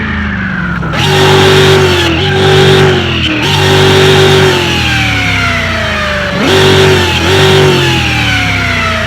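A tuned supercharged car in Car Mechanic Simulator 2021 revs loudly, its engine tone rising and falling in repeated bursts with a strong steady whine riding over the rumble.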